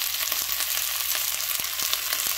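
Garlic and long green chilies sauté in a pan with a bright, steady crackling sizzle and occasional spatters, close and loud with no voices.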